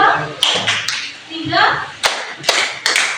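Children in a classroom doing a rhythmic counting clapping game: sharp, close hand claps land in an uneven beat between stretches of children's voices, with several loud claps toward the end.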